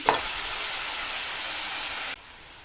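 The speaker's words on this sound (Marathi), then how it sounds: "आपल्याला आता हा कांदासुद्धा चांगला शिजवून घ्यावा लागेल" Onion fries in a pan for squid masala, a steady close hiss that cuts off abruptly near the end, leaving quiet room tone.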